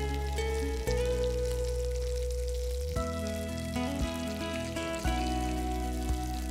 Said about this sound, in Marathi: छान असे लालसर रंगावर अशा खरपूस आपण व्यवस्थित हे दोन्ही साइडने शॅलो फ्राय करून